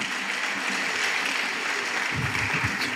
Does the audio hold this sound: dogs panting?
no